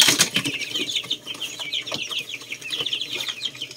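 Rhode Island Red, Black Australorp and Golden Buff Orpington chicks cheeping continuously in a brooder, high rapid peeps with a few soft clucks and light rustling close by.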